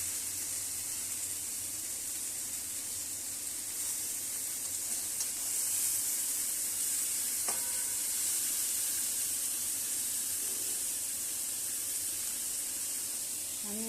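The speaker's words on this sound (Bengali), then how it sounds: "আমটা ভাজতে হবে" Mango pieces fry in a pan over a gas flame for a jaggery pickle, giving a steady, faint sizzle and hiss that runs evenly throughout.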